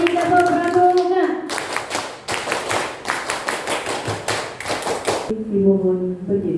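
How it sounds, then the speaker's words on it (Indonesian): Applause at the opening of a scout council meeting at an Indonesian primary school: a crowd claps hard and fast for about four seconds, loud and close, with voices briefly before and after. "Berikan kami tepuk tangan."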